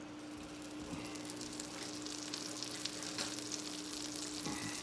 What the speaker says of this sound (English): I'm gonna go ahead and just take a small pat of butter, and I'm gonna toss it on there